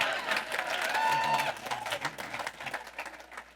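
A church congregation applauds during a pastor's sermon, a dense burst of clapping that is loud at first and then thins and fades, with a few voices mixed in.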